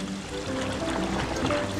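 A cartoon water fountain splashes in a lake, bubbling and trickling water with a few tonal accents, short, close and moderately loud.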